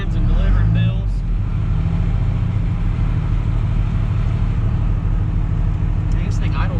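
A 1,000HP diesel truck on drag radials sits idling, giving a steady, quiet low rumble that holds evenly and close throughout.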